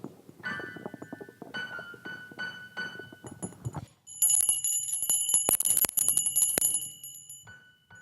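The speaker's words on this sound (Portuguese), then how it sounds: "Então, eu levei esse sininho para ele." A small bell rings in a series of bright, metallic tings, first sparse and then in a denser jingling burst, heard close with a little lingering resonance between strikes.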